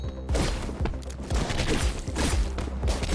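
Shotgun enemies fire in the action game Katana Zero inside a narrow area, with dense, loud overlapping blasts and booming impacts in quick succession over constant game noise.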